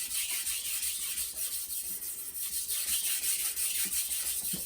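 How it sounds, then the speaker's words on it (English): Kitchen knife edge being ground on a sharpener, a steady close rasping and scraping of metal that continues without a break. "I'm going to grind metal away from the edge on each side"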